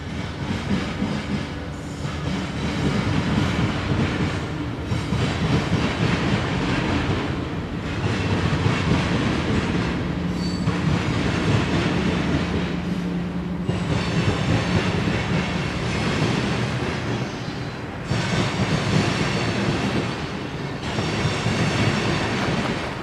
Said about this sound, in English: Turns out our final train at Dalton would be this. CSX M647 with a solo leader.